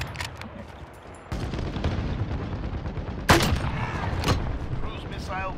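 A white phosphorus strike in Modern Warfare 2019 Ground War, booming blasts and distant artillery-like gunfire rolling over a battlefield, with a player's voice talking beneath the explosions.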